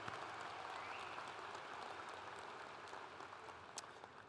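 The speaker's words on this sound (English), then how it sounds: "Let's give a big round of applause to our regents for all they do for WSU" A university commencement crowd gives a round of applause for the regents, steady dense clapping from a large audience heard at a moderate distance, fading slightly toward the end.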